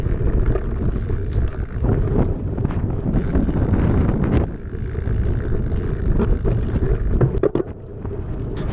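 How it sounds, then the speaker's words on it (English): Wind roars past a 29er mountain bike and its rider on a fast trail descent from Stoodley Pike, a loud continuous buffeting that surges and dips in gusts, with a brief lull partway through. "as you can hear now from the air movement across the bike and my legs, this is getting to be the fastest part of this trail"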